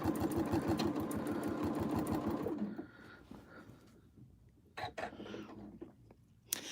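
A home sewing machine runs in a fast, steady rattling burst during free motion quilting of stems, then stops, leaving quieter room sounds with pigeons cooing faintly nearby and some soft voice sounds.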